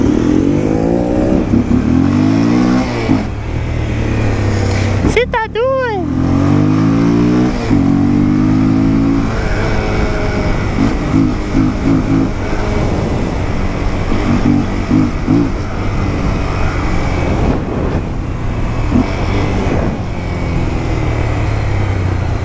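Honda CB300R motorcycle with the air filter removed accelerating hard through the gears, loud and close, with an engine note that climbs and drops at each shift and a rough intake roar.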